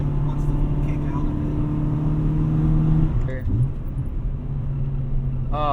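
A 2003 EP3 Honda Civic Si engine drones steadily as the car drives and accelerates through corners, a constant low hum with a brief rise in revs, while a person talks over it.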